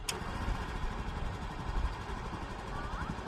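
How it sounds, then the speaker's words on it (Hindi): A TVS Jupiter 125cc scooter engine idles steadily nearby after starting, a continuous mid-pitched putter with an even rhythm and a faint voice in the background. "अभी आप सुन पाएंगे स्कूटी की आवाज़ कैसी है"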